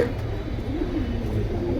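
Pigeons cooing softly in a seller's collection, a low steady burbling murmur over constant background noise, close by and without talk.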